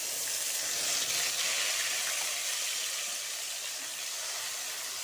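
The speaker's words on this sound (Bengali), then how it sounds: "প্রথমে তেলটা গরম হয়ে যাওয়ার পর আমি আদাটা যে বেটে রেখেছিলাম সেইটা দিয়ে দেব।" Ginger paste sizzling in hot oil in a home kitchen pan as samosa filling is started, a steady close broadband hiss and crackle that holds fairly even throughout with no talking.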